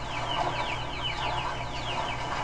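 Dense cluster of quacks and clucks from ducks in Wii Sports Resort, a busy overlapping chatter of bird calls steady throughout, with game music underneath.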